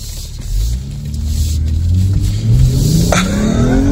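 A brand-new 2024 BMW M240i revs hard and accelerates, its loud engine note rising steadily in pitch over a few seconds with a rumbling exhaust, heard alone without talk.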